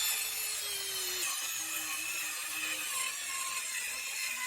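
A DeWalt Atomic 20V compact cordless circular saw cuts a 1x board clamped on a sawhorse, its high motor whine steady and close with a rough wood-cutting rasp and a slight pitch dip under load throughout.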